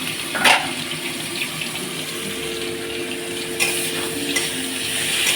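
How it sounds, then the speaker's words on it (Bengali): Tomatoes being stirred and mixed with spices in a cooking pan, a steady soft scraping and sizzling texture with a couple of brief louder clinks, close by and without talk. "আমি টমেটোটা ভালো করে নেড়ে নিলাম। দেখো, ভালো করে একটু মশলার সঙ্গে মেখে নিলাম।"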